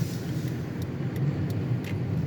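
A car engine hums steadily while driving along a road, a constant low drone heard from inside the cabin with light road noise and no pauses.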